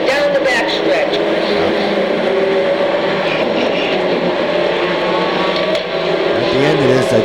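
Race trucks roar around Seekonk Speedway in a truck feature race, with a loud, sustained engine drone and shifting pitch as they run side by side. A commentator talks over the noise throughout.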